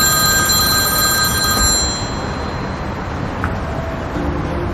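A telephone bell rings loudly and steadily in an indoor scene from a French-dubbed drama, the ring filling the first two seconds before fading into a quieter background hum, with no talk over it.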